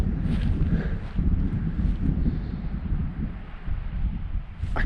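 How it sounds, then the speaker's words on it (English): Strong wind gusts roar steadily through a mountain valley in England's high fells, a loud buffeting rush that batters the microphone with no break for nearly five seconds. "I can hear it gusting through the valley"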